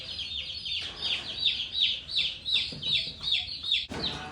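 Cornish Cross meat chicks in a brooder peeping in a rapid, steady series of bright, close, fairly loud chirps, many overlapping calls with no talk.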